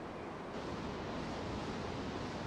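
Rapids of the Yellowstone River in Wyoming's Yellowstone Park, a steady broad rushing roar of fast water, even and unbroken.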